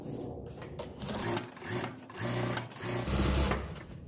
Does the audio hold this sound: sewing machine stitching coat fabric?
yes